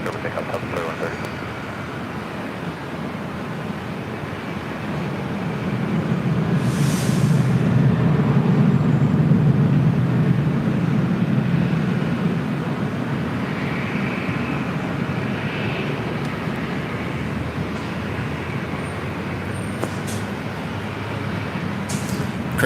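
A Delta airliner on its takeoff roll from runway 24 left at LAX, a broad low engine roar that builds to a peak midway and then holds steadily, heard from a distance.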